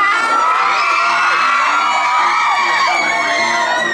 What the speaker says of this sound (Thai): ขอเสียงกรี๊ดอีกทีนะคะ